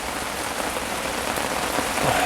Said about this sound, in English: Since about 1 o'clock it's been raining.